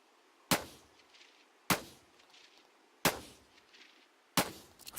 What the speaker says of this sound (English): Five bullets to the chest.